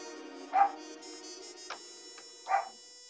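A dog barks twice, about two seconds apart, each a single moderately loud bark over a steady background hum, with a faint sharp knock in between.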